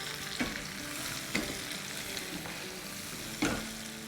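Potatoes and peas being mixed in a frying pan, a low steady sizzle with three distinct knocks of a spoon against the pan and soft scraping between them.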